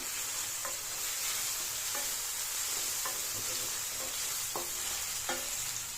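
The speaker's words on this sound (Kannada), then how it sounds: "ಕರಿಬೇವಿನ ಸೊಪ್ಪು ಹಾಕೊಂಡು ಚೆನ್ನಾಗಿ ಮಿಕ್ಸ್ ಮಾಡಿ" Egg gravy masala with coriander and curry leaves is stirred in a sizzling pan, a spoon scraping in regular strokes about once a second over a soft, constant frying hiss, fairly quiet and close.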